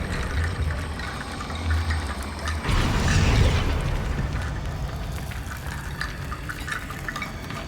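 A Confringo fire spell explodes in Hogwarts Legacy, a sudden loud whooshing boom midway that rolls off into a sustained rumble over background game ambience.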